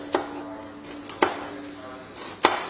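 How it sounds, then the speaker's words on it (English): A kitchen knife splits an onion on a chopping board, three crisp, close chops spaced about a second apart over a quiet background. "I'm going to split my onion in half"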